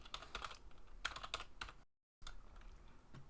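Rapid clicking keystrokes on a computer keyboard, close and steady, with a brief silent gap before the typing resumes.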